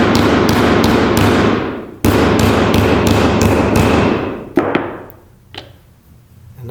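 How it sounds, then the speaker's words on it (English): A hammer taps a scrap leather tap-off pattern onto wet leather, quick bright strikes in two even runs of about five blows each, followed by a few scattered softer taps, close and loud. "let's turn that over onto our wet down leather here and tap it off with a hammer"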